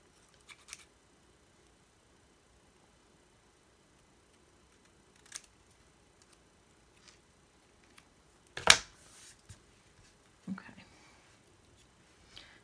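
Scissors snipping paper at a craft table, a few sharp isolated cuts with quiet pauses between them, the loudest snip near the end, close and alone without talk.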